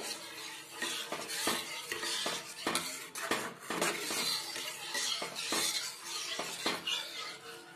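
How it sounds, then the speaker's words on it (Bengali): A spoon stirs a coffee pudding mixture with dissolved cinnamon in a pan, scraping and clinking against the metal in a steady, close, continuous rhythm with faint sizzling beneath. "সমানে দেওয়ার পরে এভাবে নাড়তে হবে"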